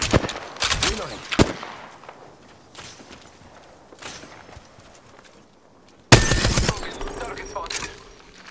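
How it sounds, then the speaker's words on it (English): Video game gunfight, a few close sharp gunshots early on, then quieter footsteps and scattered distant shots, followed by a sudden loud burst of fire with a voice speaking briefly. "Getting shot at."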